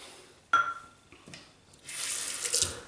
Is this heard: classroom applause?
no